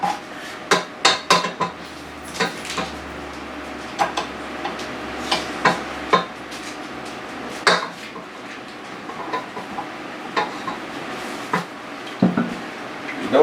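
A paddle is taken off a stand mixer and a dough hook fitted, producing a run of sharp metallic clicks, clanks and knocks at irregular intervals, close and fairly loud over a low background hum, with no talking.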